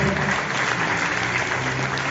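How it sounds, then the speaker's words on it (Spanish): Sustained audience applause at an evening homage event in Chimbote, a dense even clapping that fills the room from start to finish with no voices on top. "Fuertes aplausos, por favor, para él."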